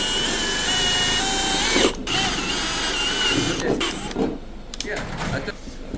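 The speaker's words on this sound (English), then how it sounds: "Drill these 2 out right here." A power drill whines continuously at close range, drilling out parts of a BMW E90 door handle, its pitch shifting briefly as it bites into metal, with a few pauses and clicks toward the end.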